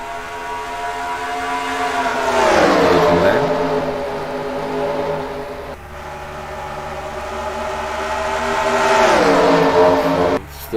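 Race cars from a racing video game take the green flag at Pocono, a loud, continuous engine roar with rising and falling pitch as the pack passes, sustained throughout with one brief dip.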